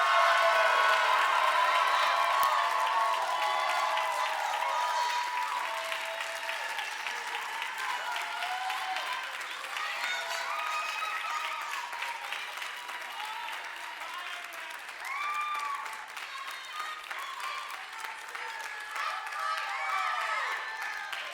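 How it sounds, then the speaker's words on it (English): Audience at a poetry slam applauding and cheering as a poet is called to the stage, sustained dense clapping with scattered whoops throughout, loud and filling the room. "Everybody clap it up for Zane."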